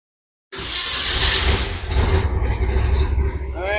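A small-block Chevy 350 V8 catches after a silent start and settles into a rough, loud idle with a steady low throb, slightly surging and wavering near the end.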